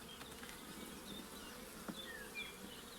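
Low, steady buzzing of many honeybees on a hive frame, close by and continuous, with a few brief higher-pitched insect whines passing through.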